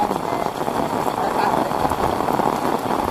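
Heavy rain falls over Kuningan in a dense, steady wash that stays loud and constant throughout.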